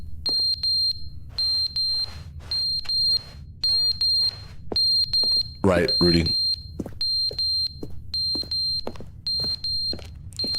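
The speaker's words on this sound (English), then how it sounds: "Smoke detector must be out of batteries now." In the video game The Stanley Parable, a smoke detector sounds a shrill, regular electronic alarm beep repeated about a dozen times, loud and close, while a person briefly speaks between beeps.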